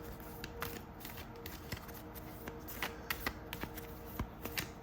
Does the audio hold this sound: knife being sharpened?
no